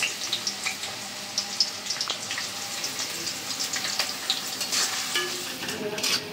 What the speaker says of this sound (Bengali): তেলের উপরে পেঁয়াজ, গরম মশলা সব কিছু ভেজে নিছি